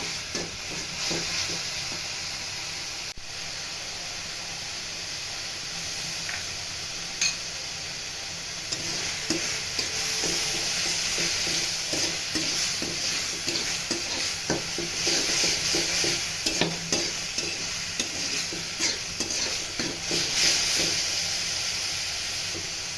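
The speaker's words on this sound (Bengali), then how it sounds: "3 টেবিল চামচ তেঁতুলের কাঠ নিয়ে আবারও নেড়ে চেড়ে নিচ্ছি।" Tamarind paste being stirred in a frying pan over low heat while making coriander leaf chutney, a steady soft sizzle and hiss with repeated scraping strokes of the spoon, close and continuous, growing slightly busier toward the end.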